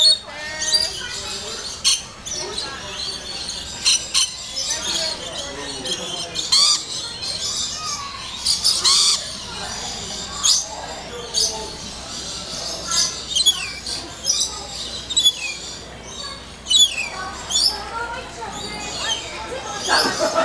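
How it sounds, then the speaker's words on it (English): Birds calling in an aviary forest area at the Aquarium of the Pacific, with scattered squawks and chirps that rise and fall at different distances and background chatter from people throughout. "looking for some birds"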